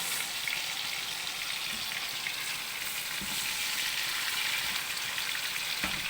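Prawns fry in a hot pan, giving a steady crackling sizzle close up with a few soft knocks, and nobody talks.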